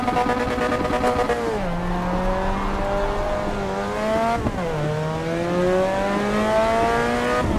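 A Mazda MX-5 race car in the racing game Assetto Corsa EVO, its engine droning loud and steady with rising pitch as it accelerates and sudden drops at two gear shifts.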